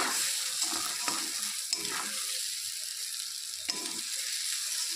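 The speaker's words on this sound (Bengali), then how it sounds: "সব কিছু ভালো করে ভাজা হয়ে গেছে" Oil sizzles steadily in a pan as spices fry for a steamed fish dish, while a utensil stirs and scrapes, with a few clinks of metal; no one speaks.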